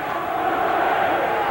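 A boxing crowd roars in support of Sam Storey during a WBO super middleweight fight with Chris Eubank, a loud, sustained cheer filling the arena, with a commentator's voice faint in the mix.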